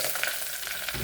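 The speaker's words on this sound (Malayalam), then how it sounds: "ഇതിലേക്ക് നമുക്ക് കുറച്ച് കരിവേപ്പില ഇടണം." Curry leaves hit hot oil over popped mustard seeds, bursting into a loud, dense, continuous sizzle heard up close with no voices.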